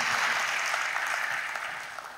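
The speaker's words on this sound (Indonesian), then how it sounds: "Kasih tepuk tangan buat Yesus Tuhan kita" Applause from a packed early-morning church congregation in Solo, a dense wash of many hands clapping together that fades slightly toward the end, with no voices over it.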